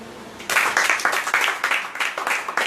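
A studio audience breaks into applause after a brief quiet lead-in, bursts of close, crisp handclaps that keep coming in uneven waves until the end.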